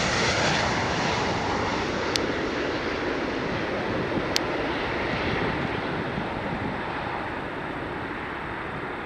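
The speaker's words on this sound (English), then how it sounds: "There's another landing. 737-800 WestJet." A WestJet Boeing 737-800 jet airliner landing at Toronto Pearson, heard as a loud, steady broadband engine roar that fills the whole stretch with little change, no voices over it.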